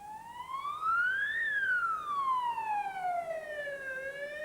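An emergency vehicle siren wails, slowly rising and falling in pitch, steady and moderately loud, with no voices, fitting an ambulance arriving on a street with blue lights.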